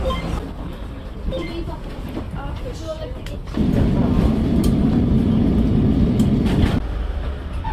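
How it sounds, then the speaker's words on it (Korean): Lisbon's number 28 tram rolls in with a loud low rumble that swells midway and holds for a few seconds, over faint background chatter. "28번 트램이 바로 왔습니다"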